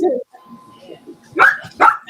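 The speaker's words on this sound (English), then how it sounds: "Dog is also very excited about it." A dog barks excitedly in the background of an online meeting, a couple of sharp, loud close barks after some soft whimpering, mixed with a person talking.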